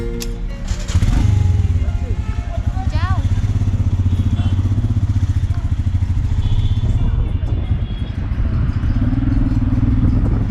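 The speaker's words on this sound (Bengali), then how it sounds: "আজকে আমরা আবারও যাচ্ছি শ্রীনগর থেকে গুলমার্গ বাইক নিয়ে" A rented motorcycle ridden from Srinagar toward Gulmarg in Kashmir, its engine starting up and then droning loud and steady with a pulsing exhaust throughout, with a brief voice over it.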